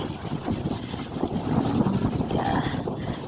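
Cold autumn wind blows steadily and roars across the microphone in broad buffeting gusts, loud and close, with no voices over it.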